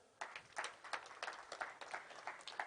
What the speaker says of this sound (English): let's give our presenter, Dr. Chemengich, a round of applause